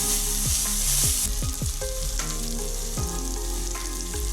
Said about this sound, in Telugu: అలానే పసుపు ఇది అల్లం వెల్లిపాయ పచ్చి వాసన పోయే వరకు ఫ్రై చేస్తున్నాం